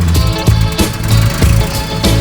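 A machine digs post holes for a large timber-frame barn, making a loud, continuous mechanical drone with repeated thudding pulses, close by and without speech.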